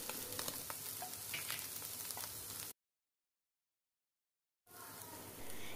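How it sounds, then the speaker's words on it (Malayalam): Chicken sautéing with white and black pepper gives a dense, close sizzle with stirring scrapes, cut by about two seconds of silence before the frying returns. "1 ടീസ്പൂൺ വൈറ്റ് പെപ്പറും 1 ടീസ്പൂൺ ബ്ലാക്ക് പെപ്പറും ഇട്ടിട്ട് നന്നായി ഒന്ന് വഴറ്റിക്കൊടുക്കാം."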